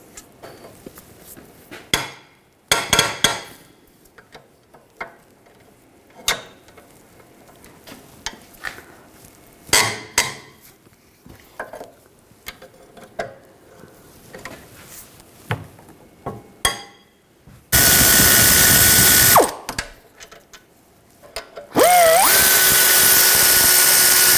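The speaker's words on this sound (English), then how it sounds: "I'll take these two bolts out, use an 18mm socket." Ratchet with an 18mm socket working on the rear brake bolts of a 2006-2010 BMW 550i: short bursts of clicking, metallic tool clatter and scraping, then two long harsh whirring stretches near the end.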